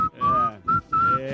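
A person whistles a short tune in a few clear, bright phrases, each note sliding slightly, with brief pauses and breathy gaps between.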